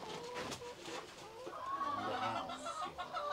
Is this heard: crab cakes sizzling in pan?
no